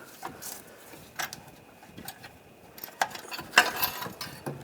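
Wrench or ratchet clicks loosen a bolt from the exhaust clamp up top on a 2014–2022 Chevrolet Trax during catalytic converter replacement, with faint scattered metallic ticks and a couple of sharper clanks.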